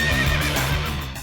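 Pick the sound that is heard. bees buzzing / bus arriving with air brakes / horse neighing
horse neighing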